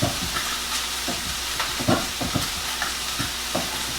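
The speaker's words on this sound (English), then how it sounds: "It says cherry tomatoes crushed by hand." Cherry tomatoes are crushed by hand, giving off a string of wet squishes and pops at an uneven pace. Each squelch sounds close and is heard over a steady background sizzle.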